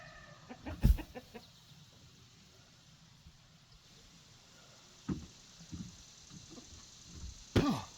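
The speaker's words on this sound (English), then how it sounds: "Watch out, chickens!" Chickens on a farm give a few scattered clucks and squawks, fairly close, between long quiet gaps over a low background hum.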